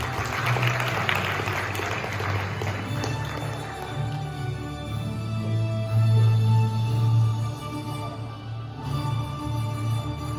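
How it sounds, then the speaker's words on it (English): A general assembly audience applauds at a PICPA Dubai gathering; dense clapping fills the first few seconds, then thins and fades under a steady low hum and faint background sound. "let's give a big round of applause to the Piso Master himself, Mr. Chairman Lyn"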